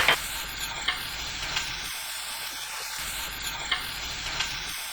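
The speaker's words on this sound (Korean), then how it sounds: "지글지글 소리가 나기 시작하면 10초 볶고" Canned tuna and vegetables stir-fry in a pan over high heat with minced garlic, producing a steady close sizzle with periodic light scraping ticks from stirring.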